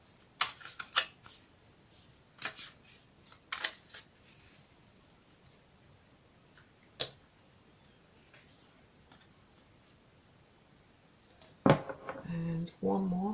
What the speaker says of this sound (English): I've already pre-shuffled these cards, but shuffling them for you on camera.